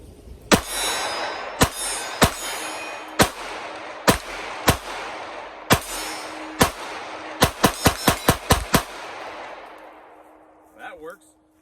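A pistol fires 15 rounds from an S15 magazine, loud sharp reports, first spaced irregularly and then in a quick closing burst, followed by a faint voice.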